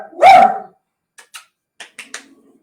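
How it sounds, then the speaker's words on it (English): A dog gives one loud close bark followed by several shorter, quieter yips and barks in an indoor home setting during a live stream, with no talking. "So sorry about my dog."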